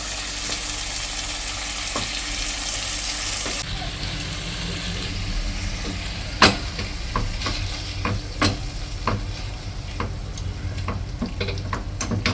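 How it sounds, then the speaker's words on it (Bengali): Leftover vegetable curry sizzles and fries in a pan, a steady crackling hiss throughout, with sharp scraping stirs and clinks of a utensil against the pan recurring in the second half. "এটাকে আমি ভালো করে এবার ভাজা ভাজা করবো"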